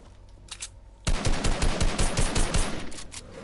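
Rapid bursts of video game gunfire during a duos match, loud and close, a dense automatic volley that keeps going after a quieter start.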